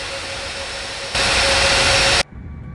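A jet aircraft engine in an air traffic control video game roars loudly and steadily, swells sharply for about a second, then cuts off abruptly, leaving a low residual hum.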